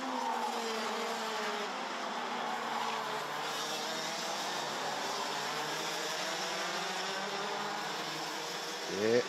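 Racing karts running side by side in a close battle with tyre smoke, engines droning steadily throughout at a fairly loud level, with a sharper rise near the end.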